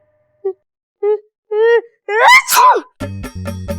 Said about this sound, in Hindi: अब छींकता ही जा रहा है